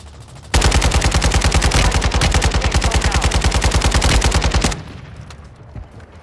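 Rapid automatic gunfire from the video game Call of Duty: Modern Warfare II bursts out loud and close, a sustained rattling stream of shots lasting several seconds before cutting off abruptly.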